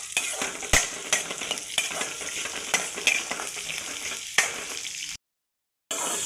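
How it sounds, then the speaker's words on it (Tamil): Onions sautéing in a pan while cooking a country-chicken semi gravy, a continuous sizzle punctuated by sharp scrapes and clinks of a spoon stirring against the metal, then a brief silence. "வெங்காயம் கொஞ்சம் நல்லா வதங்கணும்"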